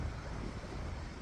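Wind buffets an outdoor microphone in a steady, low rumbling roar with no pauses and no voices.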